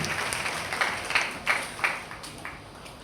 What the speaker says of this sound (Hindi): आपके लिए एक बार जोरदार ताली होनी चाहिए।